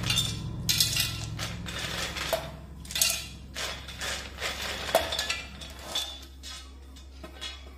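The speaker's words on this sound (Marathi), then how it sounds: "त्यानंतर हे भाजलेले शेंगदाणे टाकूया" Roasted peanuts tumbling into a mixer jar make a series of dry rattling clinks and bursts, repeating in irregular pours over a low steady hum.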